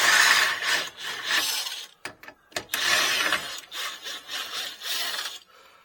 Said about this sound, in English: we'll put this my electric wrench on here to pull this out